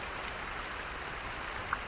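Steady rain falls in a continuous, even hiss with a faint patter of drops, an unbroken wash of sound with no voices over it.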